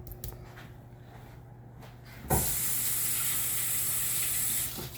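A kitchen faucet is opened and water runs steadily for rinsing hands, a sudden loud hissing gush that holds for a couple of seconds before the tap is shut off, following a quiet stretch.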